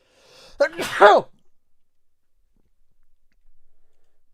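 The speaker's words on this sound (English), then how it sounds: "I need to sneeze." A single sharp sneeze bursts out, preceded by a short intake of breath, then fades into near silence with faint rustling.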